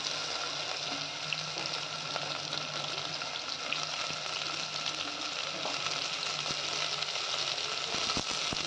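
Potato, carrot and onion pieces fry in oil with a dense, constant sizzle while being stirred, the hiss steady and fairly loud throughout with a few light scrapes toward the end.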